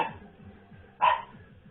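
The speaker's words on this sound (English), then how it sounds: "You shouldn't be surprised anymore when you hear Pip bark" A dog named Pip gives two short barks in the game Splatoon 3, a sharp one at the start and a louder one about a second later, over faint background game sound.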